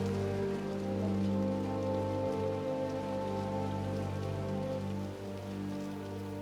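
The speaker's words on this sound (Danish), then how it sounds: "mens regnen hamrer ned" Heavy rain pounds down steadily outdoors in a dense, even hiss with no break, loud and close, with no voices over it.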